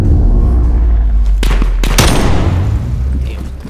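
M4 rifle fire in Call of Duty cracks out as loud, rapid bursts of close gunshots over a heavy low rumble, with a sharp flurry in the middle and a dull trailing roar afterward.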